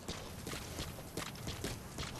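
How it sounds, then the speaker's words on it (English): Horse hooves clip-clopping in Metal Gear Solid V: The Phantom Pain, a steady walking rhythm of repeated soft thuds at moderate level, continuous across the clip with no talk. "I gotta move the horse."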